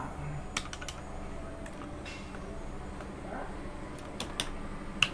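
Bengali text being typed on a computer keyboard in Photoshop with Bijoy 52, heard as irregular, crisp key clicks in short bursts over quiet room hiss.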